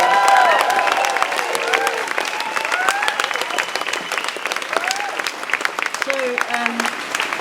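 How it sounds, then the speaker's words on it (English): Audience applause at a nature conservation talk, steady dense clapping from a crowd throughout, with whoops and raised voices mixed in near the start and over the top. "Big round of applause for Mr. Packham for getting so many people here."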